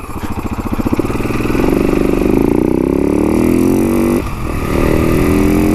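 A motorcycle on Shinko 520 tires accelerates hard, its engine note climbing steadily through a gear, dipping at a shift, then pulling again, loud and close throughout.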